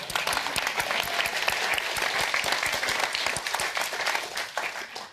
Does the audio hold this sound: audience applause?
yes